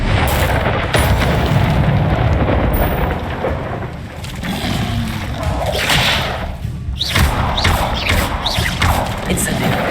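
Fire spells cast again and again in Hogwarts Legacy give a busy stream of whooshing bursts and thumps with game effects, broken up by shouted spell names.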